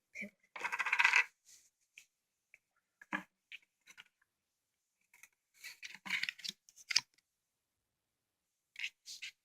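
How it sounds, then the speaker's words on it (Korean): Coins dropping and clinking inside an Aikatsu-style arcade game machine, a dense metallic rattle near the start followed by scattered single clinks and small bursts, close and moderately loud. "여기에다가 또 동전 넣어주실게요"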